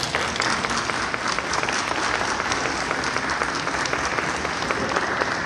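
An audience at an education lecture breaks into a sustained, even round of applause, a dense wash of clapping from many hands that carries steadily from start to finish without a break.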